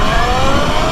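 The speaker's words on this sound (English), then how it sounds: "Full throttle 8th mile run." A Sur Ron electric dirt bike accelerates hard at full throttle on an eighth-mile run, giving a loud, continuous, rising whine from the motor and drivetrain with steady wind rush and no voices.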